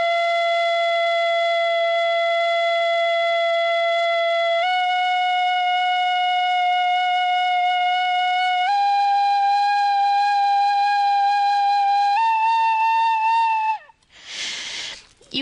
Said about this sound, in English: the penny whistle,